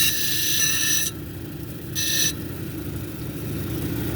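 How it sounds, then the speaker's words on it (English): Lapidary wheel grinding a soft Wonderstone cabochon edge: a steady low motor hum with two bursts of harsh, hissing abrasion, one long and one short, as the stone touches the wheel. "So now I'm going to hit this edge up here and grind towards the center."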